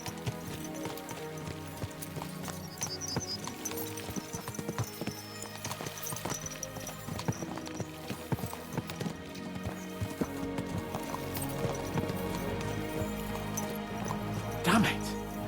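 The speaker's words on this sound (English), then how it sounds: "Let's really spur these horses on" Horses gallop in the medieval video game Kingdom Come: Deliverance II, their rhythmic hoofbeats running steadily under background music and game ambience, with a voice speaking over them.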